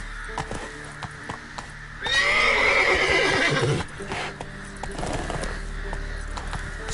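A horse in The Witcher 3 gives a loud, prolonged whinny in the middle of the clip, with soft clip-clopping hooves and ambient game sounds before and after.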